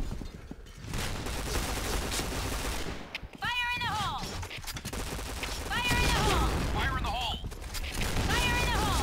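Gunfire in the Piercing Blow video game: bursts of rapid shooting run through the whole stretch at steady loudness, mixed with metallic mechanical sounds and brief rising electronic tones, busy and close.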